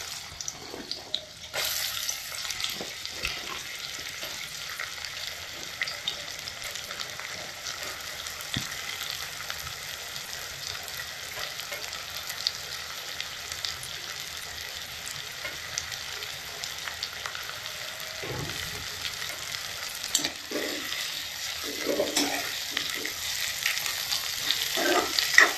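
Ingredients for a Hyderabadi chicken biryani sauté in a hot pan, browning with a soft, continuous sizzle under occasional stirring scrapes and a hint of running water, fairly quiet throughout.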